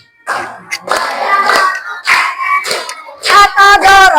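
Schoolchildren standing in a classroom clap their hands while singing a song together, with sharp, close claps scattered between bursts of loud group singing.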